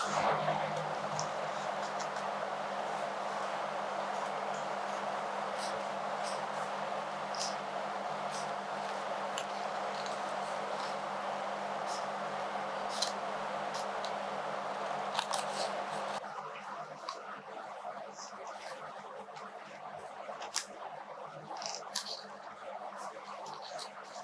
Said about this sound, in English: I have the scissors with me and I'm going to go ahead and then cut out the circle